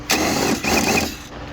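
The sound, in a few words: impact wrench with extension removing bolts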